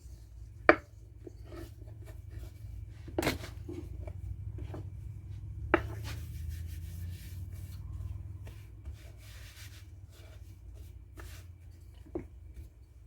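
A wooden rolling pin working pita dough on a counter: soft, quiet rubbing strokes with a few sharp knocks and clacks at irregular moments, close and low in level, with no talk.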